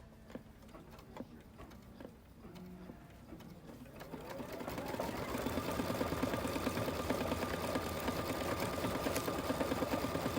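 An embroidery machine couching yarn letters starts with scattered clicks and taps, then ramps up into fast, steady, rhythmic stitching that chatters continuously at close range.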